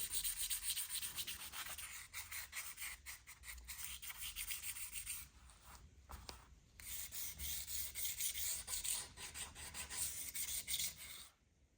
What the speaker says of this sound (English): We're just sanding the existing finish really, and the edges of it where it meets that bare wood.